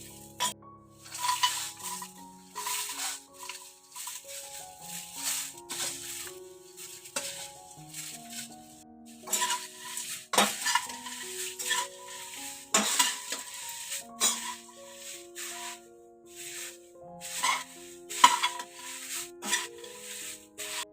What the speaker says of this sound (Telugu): జొన్న అటుకుల మిక్చరు ఇందులో వేసి కలుపుకుందామండి.